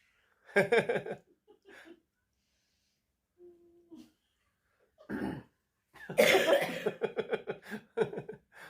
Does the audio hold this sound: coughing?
yes